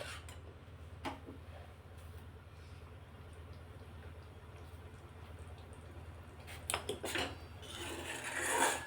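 A spoon stirs cashew masala gravy in a pan for hotel-style kaju curry, giving soft scraping and clinking over a steady low kitchen hum, with a few louder metallic knocks near the end.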